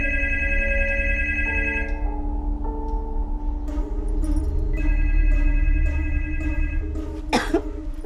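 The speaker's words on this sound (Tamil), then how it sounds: "அவருடைய லேண்ட்லைனுக்கு ஃபோன் பண்ணி பார்ப்போம்." A landline telephone rings repeatedly in a quiet room after a call is placed, the bell tones coming in steady bursts, with a cough or throat clearing close by near the end.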